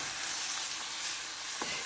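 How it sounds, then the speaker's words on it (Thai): Chicken thigh stir-frying in southern Thai curry paste in a hot pan gives a steady, bright sizzle with faint scraping, moderately quiet and continuous throughout. "นำลงไปแล้วก็ผัดไก่ให้สุกให้หมดเลยนะครับ"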